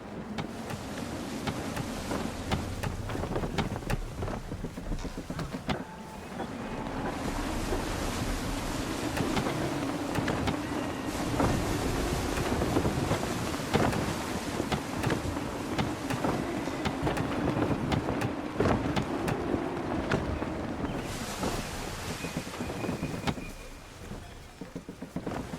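Sailing ship under full sail in shifting, gusty wind in the Assassin's Creed III game, with rushing wind, surging waves and creaking hull noise rising and falling continuously at moderate loudness, with no voices.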